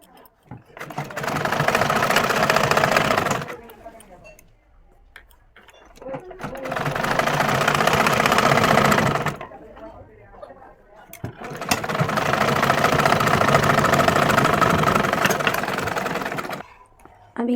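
Sewing machine stitching a sleeve, running in three long bursts of rapid mechanical whirring separated by short pauses, close and loud.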